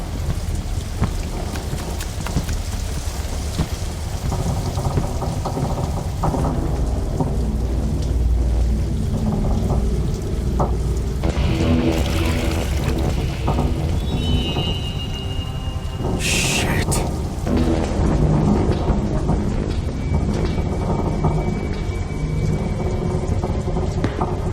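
A heavy thunderstorm in an audio drama, loud continuous rain on surfaces with rolling thunder swelling midway, voices faintly underneath the downpour.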